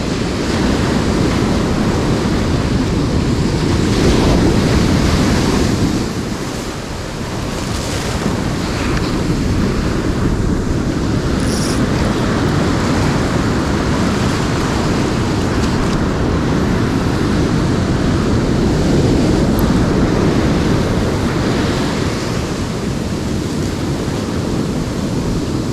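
Ocean surf roars steadily on a beach at night while fishing for tailor, a loud, continuous wash of breaking waves mixed with wind buffeting the microphone.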